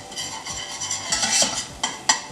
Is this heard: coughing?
no